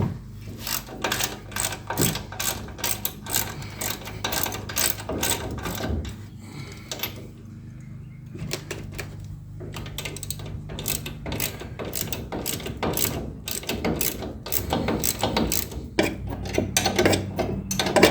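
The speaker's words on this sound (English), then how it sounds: "I already need to invest in a 15mm ratchet wrench." A ratchet wrench clicks in rapid, repeated bursts of short ratcheting strokes while working on the suspension of a 2021 Ford Ranger FX4 during a lift installation, close and loud with brief pauses between runs.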